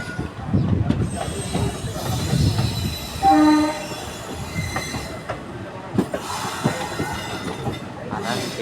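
Two trains pull into Tirunelveli Junction station side by side on parallel tracks. Wheels squeal and clatter over the rails, a horn tone sounds briefly, and faint voices come through now and then.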